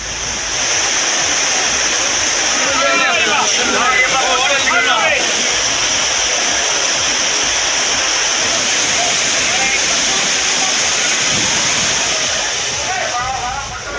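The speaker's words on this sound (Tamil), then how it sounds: "ஆனால் தண்ணி ஹெவியாக ஊற்றுது" Heavy water pouring down at the Courtallam waterfalls during a busy season, a loud continuous roaring rush that fills the whole stretch, with faint voices occasionally mixed in.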